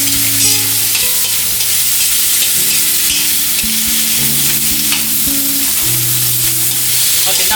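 Cabbage stir-fries in a hot wok for a Taiwanese dish, a loud, close, continuous sizzle with repeated scraping and tossing strokes of the spatula against the metal, and no voices.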